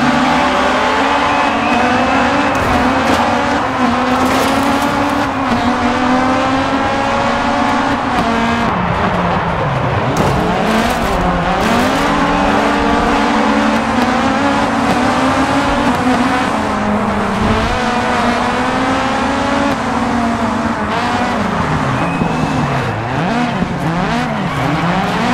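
Rally cars race in DiRT 4. Engines roar loud and close, revving up and down as the cars shift gears. Tires squeal and skid throughout, and the racket continues without a break.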